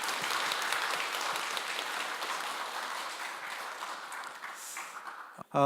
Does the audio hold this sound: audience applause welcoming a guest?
yes